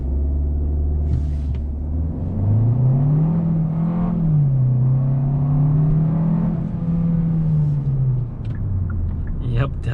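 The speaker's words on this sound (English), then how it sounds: "I'm going to go ahead and do a quick acceleration right here. It is in sport mode." A 2022 Hyundai Sonata accelerating hard in sport mode with traction control on: a loud engine rumble rises in pitch and shifts through a gear change, heard from inside the car under occasional speech.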